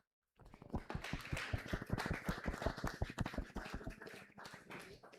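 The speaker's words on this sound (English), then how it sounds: "Please welcome them on stage and a big round of applause" A small audience claps for speakers welcomed onstage at an architecture and city-design event in Venice, a few dozen distinct quick claps beginning abruptly and continuing fairly close and steady before thinning out.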